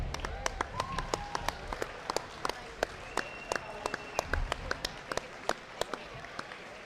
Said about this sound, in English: How about a round of applause for game well played?